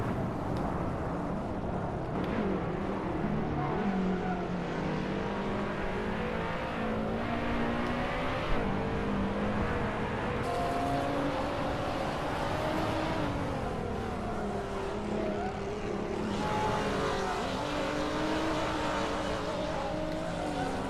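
A race car engine in the video game Hot Wheels Unleashed drones and revs continuously, pitch rising and falling with gear changes, steady and loud without pause.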